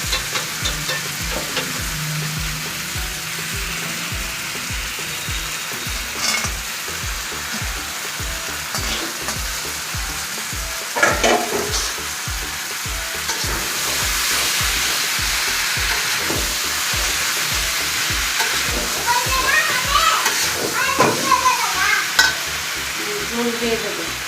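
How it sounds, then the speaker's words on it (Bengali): Fish fries in a hot pan with a loud, continuous sizzle, broken by regular rhythmic stirring or scraping strokes, with no talking over it. "মাছ দিয়ে ভাজা দিয়ে দেব।"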